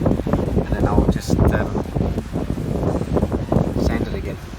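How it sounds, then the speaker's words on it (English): Gusty wind buffets the microphone outdoors beside a 20-foot Voyager Ghia boat under fibreglass restoration, a steady loud rumble with bursts of rustle throughout. "Really windy"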